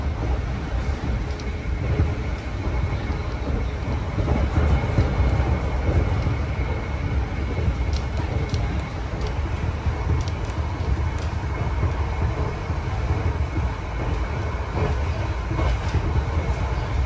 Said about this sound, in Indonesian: Sekarang ini perjalanan kereta api Argo Cirebon sudah memasuki jalur lintas arah